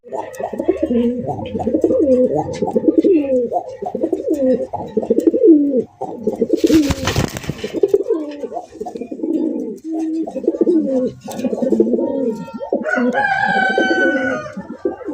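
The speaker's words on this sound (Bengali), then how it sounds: "পুরান জাতের গোল্লা কবুতর" Old-breed Golla pigeons coo in a steady, close run of low burbling calls, with a brief rustle of wings or handling partway through and fainter bird calls near the end.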